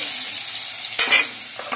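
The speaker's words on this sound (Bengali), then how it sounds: "এখানে আমার তেল গরমও হয়ে গেছে, এর মধ্যে আলুগুলো যে ছোট ছোট করে কেটে রেখেছিলাম সেগুলোও দিয়ে দেবো" Small cut potato pieces frying in hot oil, giving a steady close hiss broken by a couple of sharper stirring scrapes near the end, with no talking.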